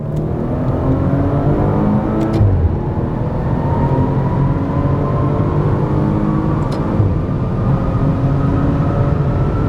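A Maserati Quattroporte Modena Q4 in sport mode accelerates, its engine droning and rising in pitch from inside the cabin, loud and continuous with tire and road roar and no talk.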